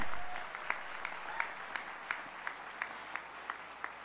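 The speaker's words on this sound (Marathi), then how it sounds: "आपण जोरदार टाळ्या वाजवून त्यांचं स्वागत करूया" An audience claps warmly at a public event in Pune to welcome the chief minister, a dense steady round of applause with a few sharper claps standing out.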